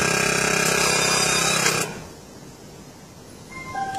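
A home vacuum food sealer machine runs with a loud steady motor drone while sealing a bag, then cuts off abruptly partway through, leaving faint background noise and a soft rising hum near the end.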